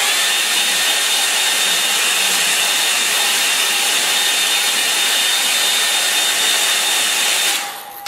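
A hair dryer blows steadily and loudly at close range to dry a watercolour estuary painting, a continuous whooshing whine that cuts off near the end.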